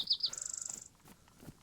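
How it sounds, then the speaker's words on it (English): Ambient birdsong in the survival video game DayZ: a bright bird gives a rapid, trilling run of chirps, fairly clear at first, then fades into quiet background. "those in-game bird noises are so relaxing"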